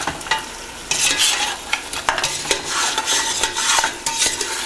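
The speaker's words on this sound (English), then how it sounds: "You have to keep stirring the spices with the yogurt for 5-10 more minutes." Spices and yogurt stirred in a pan for rogan josh, a spoon scraping in repeated close strokes over a steady sizzle, with occasional clinks of metal against the pan.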